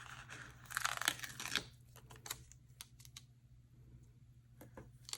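A sticker being peeled off a backing sheet for a planner, with a crisp tearing, crinkling burst near the start followed by scattered light clicks and rustles, close and quiet.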